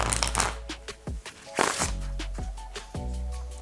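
Close up, a deck of playing cards is shuffled for a magic trick in a series of quick riffling bursts and soft slaps, several shuffles in a row with short pauses between them.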